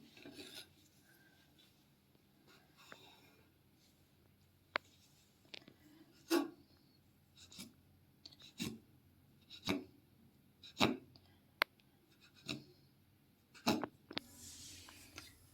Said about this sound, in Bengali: এই যে আমি একে একে এভাবে কেটে কেটে আমি একটা থালায় রেখে দিচ্ছি।